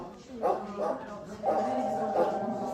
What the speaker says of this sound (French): Dans la salle d'attente, 2 chiens gémissent.